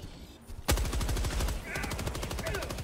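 Machine gunfire in a chaotic shooter video game starts abruptly after a brief quiet moment, a rapid, steady stream of close, loud shots that continues to the end.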